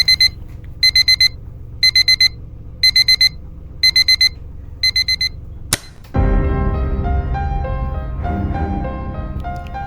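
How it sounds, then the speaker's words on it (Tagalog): An electronic alarm clock aboard a ship beeps in rapid repeated bursts, then cuts off with a click, followed by a louder steady hum of the ship's machinery. "Isang tunog ng alarm clock ang nagpapagising sa amin sa oras ng pagtatrabaho."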